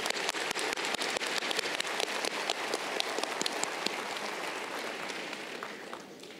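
Audience applause at an Arkansas Tech University fall commencement ceremony: dense, steady clapping from a large crowd that tapers off gradually toward the end.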